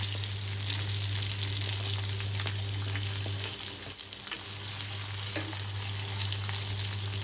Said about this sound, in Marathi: कांदा हलका परतून घ्यायचा आहे।